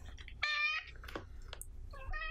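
A cat meows twice, with clear drawn-out calls separated by a short pause and faint background noise between them.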